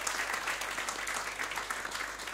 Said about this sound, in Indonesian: Boleh tepuk tangan buat Indonesia.